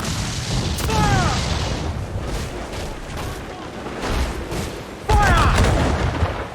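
Ship cannons fire in Assassin's Creed IV: Black Flag as booming broadside blasts, one volley near the start and a louder one about five seconds in, over continuous rumbling naval battle noise with voices in the background.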